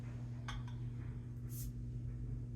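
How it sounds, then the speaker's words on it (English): A bottle of home-brewed SMaSH beer, made with Maris Otter malt and Kent Golding hops, opens with a brief, faint hiss of fizz after a couple of light clinks, all over a steady low hum. "Hopefully you'll hear a fizz when I open this."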